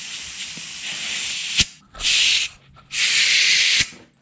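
Bursts of pressurized spray hiss loudly from a can during work on the rear sway bar links of a 2002 Mercury Cougar. Three separate sprays are heard, split by short gaps and a couple of sharp clicks.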